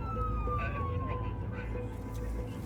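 Emergency siren from police, fire or ambulance units arriving at a road crash scene, a steady wailing tone gliding downward over constant low traffic rumble throughout, with faint talk underneath.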